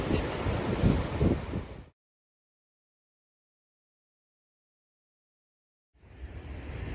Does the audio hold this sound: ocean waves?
yes